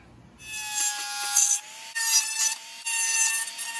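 A Dremel rotary tool cuts during a Winegard Gateway antenna install, its high whine rising and falling in three short bursts of grinding with brief pauses between, loud and close.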